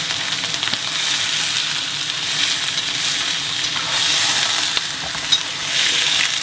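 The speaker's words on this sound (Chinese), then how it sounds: "不要急着炒它，让它在锅里面搞个10秒钟、20秒钟再炒，差不多了，现在就开始炒" Chicken stir-fried in a wok for chestnut braised chicken, a steady close hiss of sizzling oil with faint scraping of the spatula running throughout, no one talking.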